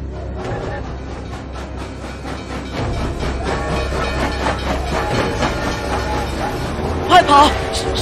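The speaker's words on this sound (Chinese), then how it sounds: "快跑！ 是火车！" A train rumbles past as a radio drama sound effect, a loud, steady rolling roar with rhythmic clatter building partway through and a brief sharp whistle-like accent near the end.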